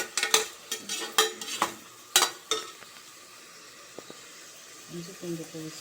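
Ginger garlic paste sautéed in a pan for biryani, heard as a burst of sharp scraping spatula strokes early on, then a quieter stretch with a low sizzle and a voice speaking near the end.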